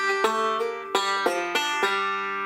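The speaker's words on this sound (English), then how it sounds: "I'm just letting that slide ring out on its own rather than covering it up with a middle finger." A banjo picks a short intermediate Lonesome Road Blues lick, with about six crisp plucked notes and a slide left ringing out. It is close, clean and solo.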